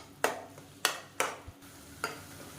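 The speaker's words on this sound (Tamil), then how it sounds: "மசாலாவை சேர்த்துட்டு விட்டுறாமல் இந்த மாதிரி இடையில நல்லா கிளறி விட்டுக்கிட்டே இருங்க" Masala sautéing in oil in a pan is stirred in short, close scraping strokes, about five sharp swishes spaced unevenly over a soft background sizzle.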